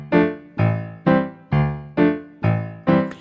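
Jazz piano comping in a steady 2/4 feel, from a beginner's lesson on a song: seven evenly spaced, loud sustained chord stabs with rich harmonics, played alone without talk.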